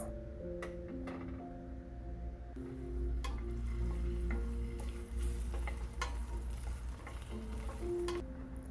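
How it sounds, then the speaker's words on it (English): Garlic sautés in oil in a pan, a soft, fairly faint crackle punctuated by sharp ticks and clicks of stirring, with music playing underneath. "I'm going to saute the garlic first."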